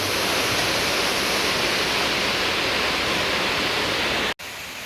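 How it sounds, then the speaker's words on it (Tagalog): Heavy typhoon rain pours down at Agusan Marsh as a dense, loud, unbroken hiss that holds steady throughout and cuts off abruptly near the end. "Naabutan na kami ng ulan."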